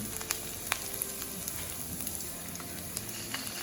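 Ginger and garlic sizzle in a hot pan, a steady crackling fry with scattered sharp pops and spatters, close and fairly loud with no talking.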